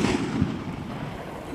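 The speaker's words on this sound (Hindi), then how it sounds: "ये चल रहा हमारा गूगल वाला इसका शॉट, देखते हैं ये कैसा चलता है और ये लगे इसको आग," Diwali sky shot firework launching upward and bursting outdoors, a broad noisy rush with a couple of dull thumps early on, fairly loud and steady throughout, with no voices.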